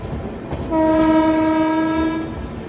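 Janshatabdi Express pulling away from Chundur station, a loud sustained horn blast lasting over a second amid rumbling train noise, close and dominant.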